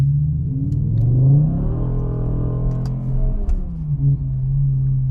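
A naturally aspirated V10 in a BMW M6 revs close and loud, its deep engine tone rising in pitch, holding, then dropping back before a brief second blip, with no talk.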